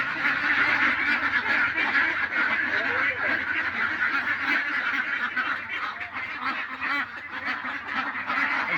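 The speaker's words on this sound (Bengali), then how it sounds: "এগুলো আমাদের হাঁস" A large flock of farm ducks quacks and honks in a dense, continuous chorus, loud and close throughout.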